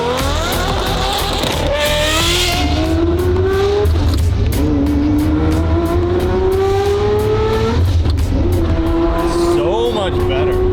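A Ferrari driven out on public streets, its engine revving up through rising pitches in repeated pulls with brief lifts between gears, loud and close throughout, some tire noise mixed in.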